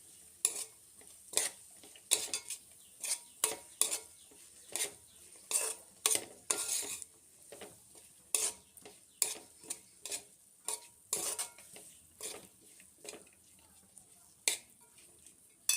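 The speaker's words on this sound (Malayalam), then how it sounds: "നന്നായിട്ടൊന്ന് മിക്സ് ആക്കി കൊടുക്കാം." A spoon stirs samosa filling with green peas in a pan, a series of irregular close scraping and clinking strokes against the metal, some in quick bursts, with quiet gaps between and no talking.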